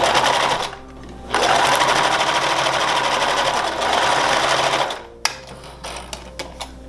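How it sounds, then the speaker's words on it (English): A sewing machine stitches linen apron ties together, running in loud rapid bursts with a short pause between them, then stopping with a few clicks and handling noises. "put that under your sewing machine and just sew that together."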